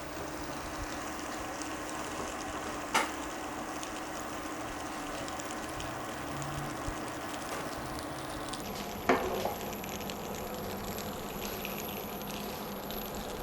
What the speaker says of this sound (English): You can see it's starting to bubble up.